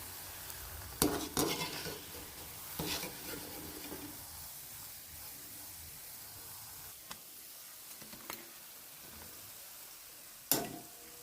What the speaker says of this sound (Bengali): সবগুলো ভাজা হয়ে গেছে